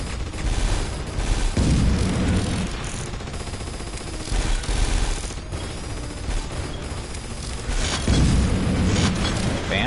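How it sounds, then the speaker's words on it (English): Repeated heavy explosions and booming blasts from the PSVR shoot-em-up game Drone Striker roll through, loud and continuous, with bursts swelling at the start, middle, and near the end. "explosions or, like, environmental destruction"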